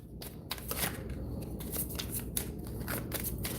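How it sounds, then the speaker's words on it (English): Tarot cards are shuffled by hand at close range, with quick repeated riffling flutters and soft slaps in an uneven rhythm and no voices. "give these cards a good shuffle"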